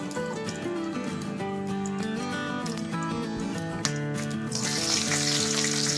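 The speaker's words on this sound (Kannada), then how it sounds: "ಒಂದು ಚಮಚದಷ್ಟು ಜೀರಿಗೆ ಇದೆ ಜೀರಿಗೆ ಹಾಕ್ತೀನಿ" Cumin seeds sizzle in hot oil in a pan while masala chapati is being made, a steady, dense frying hiss that holds close and loud throughout with no talk over it.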